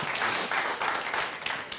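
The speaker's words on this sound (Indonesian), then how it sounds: "Tepuk tangan dulu buat Tuhan Yesus." A church audience at a women's gathering claps together in a brief burst of applause, steady and fairly loud, filling the short stretch without speech.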